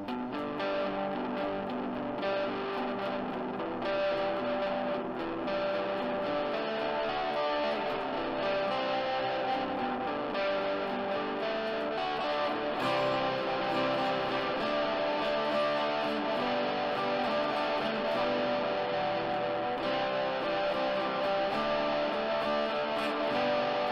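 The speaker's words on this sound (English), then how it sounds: "This is a digital simulation of an Boss OD1 overdrive after the reverb" An electric guitar runs through a digital simulation of a Boss OD-1 overdrive placed after a reverb. It plays a loud, continuous distorted tone with washy reverb sustain throughout, with no talking.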